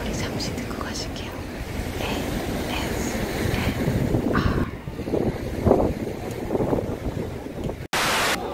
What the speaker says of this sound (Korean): 파도소리 잠시 듣고 가실게요.